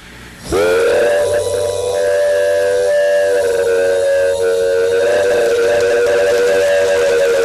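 A voice imitates a freight train whistle, a loud sustained wailing tone that swells in and holds steady for several seconds.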